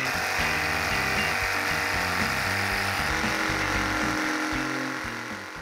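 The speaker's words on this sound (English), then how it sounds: "now I'm going to cut it out with a jigsaw." A jigsaw cuts out a wooden charcuterie board clamped down for the cut, a steady, close buzzing drone with a stuttering, shifting pitch, running continuously and tapering slightly at the end.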